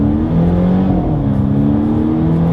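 A 2022 Volvo S60 in dynamic driving mode accelerates hard, heard from inside the cabin as a steady, loud engine drone with a low hum that holds throughout, with no talking.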